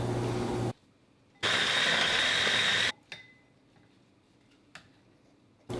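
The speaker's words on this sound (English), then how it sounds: "In a food processor, chop the ginger." Food processor chopping ginger, running in two short bursts, the second longer and louder with a bright whirring blade, followed by a few faint clicks and taps.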